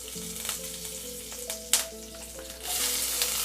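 Fenugreek seeds and curry leaves crackle in hot oil for a Chettinad fish kulambu, with sharp pops over a steady sizzle and a faint tonal hum in the background.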